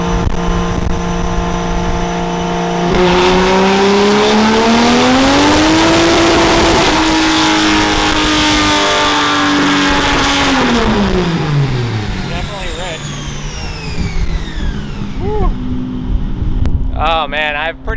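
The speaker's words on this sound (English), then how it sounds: "I've pretty much never heard this car from outside of the car before. Thing sounds good." A budget naturally aspirated-turned-turbo Toyota 2JZ car engine revs hard through a dyno pull, loud and sustained with rising then falling pitch, heard from outside the car, with voices talking over it near the end.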